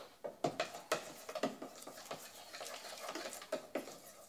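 A spoon stirring banana bread batter with flour and baking soda in a bowl, soft irregular clinks and thick scraping strokes, close and fairly quiet.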